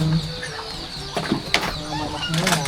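Chickens cluck in short bursts nearby, with some rustling and a brief flutter among the farmyard sounds.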